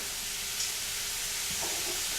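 Diced onion drops into a hot gumbo pot with chicken sausage, giving a soft, steady sizzle and hiss that stays quiet and even throughout.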